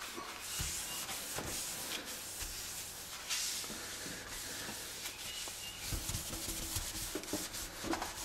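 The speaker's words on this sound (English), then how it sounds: "all I'm going to do is just take some paper towels, and I'm just going to wipe it down." Paper towels wiping down a stainless steel sink, a soft irregular rubbing and swishing that repeats in uneven strokes over several seconds, close and fairly quiet with no talk.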